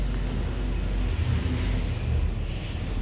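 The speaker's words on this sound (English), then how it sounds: "There's just so much motorcycles in the road." Motorcycle traffic passing on a busy street in Lebanon, heard as a steady, loud wash of low engine rumble and road noise close by, with no clear individual pass-bys standing out.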